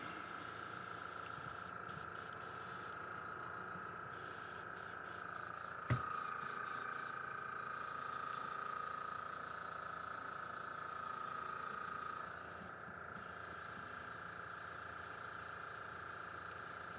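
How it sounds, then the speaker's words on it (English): An airbrush sprays paint while an air compressor runs, giving a steady, quiet hiss with a constant motor whine and a few short bursts of sharper spray, and no talking. "Sorry for the airbrush and compressor noise."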